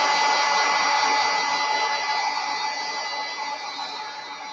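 A hair dryer blows steadily at close range over wet mixed media artwork, a loud, even rushing whoosh that fades slightly as it runs, with no talk.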